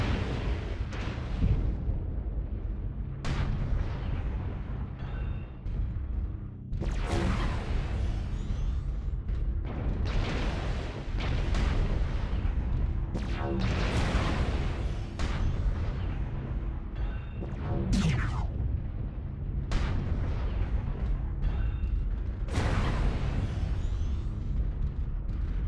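Mech cannons fire in MechWarrior Online: loud, heavy booming shots and explosions repeat in irregular bursts across a constant rumbling battle din, with no talking.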